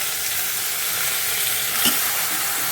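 Chicken biryani ingredients sauté in a pressure cooker with a steady, loud broadband sizzle and frying hiss, plus a brief stirring scrape near the end; no voices.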